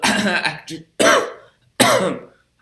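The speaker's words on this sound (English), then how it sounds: "Sorry about my cough." Three rough bursts from one close voice, each sharp and breathy, spaced about a second apart and trailing off like throat-clearing coughs.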